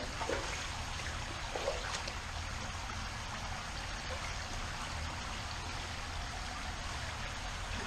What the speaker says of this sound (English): It's just street runoff water.